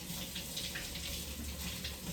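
Steady stream of water running from a kitchen tap, a continuous even hiss and gush heard close up while making white bread dough with a poolish, no voices over it.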